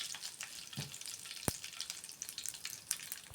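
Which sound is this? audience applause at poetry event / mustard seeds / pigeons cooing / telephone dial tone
mustard seeds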